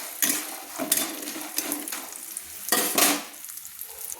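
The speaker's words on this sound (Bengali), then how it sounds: "একটু মুচমুচে করে ভেজে নিচ্ছি।" Bori lentil dumplings fry crisp in hot oil, a dense close sizzle punctuated by repeated bursts of stirring and scraping against the pan, with no speech.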